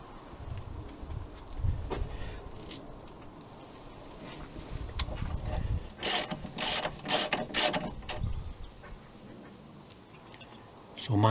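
Ratchet wrench clicking in several quick bursts as it works the 24mm ball joint nut on a 2011 Fiat Ducato campervan, close and fairly loud after a stretch of low workshop rumble.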